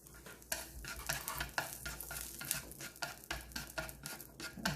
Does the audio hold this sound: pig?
no